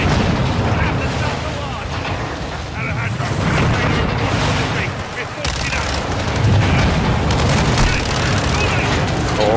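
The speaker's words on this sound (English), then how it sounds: "Let's have ourselves a gunfight. Okay. Except I have a bloody burst rifle." Gunfire from a burst rifle in a Modern Warfare video game campaign firefight, with dense, continuous shots and blasts filling the whole stretch at close, loud range.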